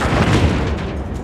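Warship gunfire in World of Warships from the cruiser Edinburgh, a heavy booming salvo with a rolling, rumbling decay, loud and close.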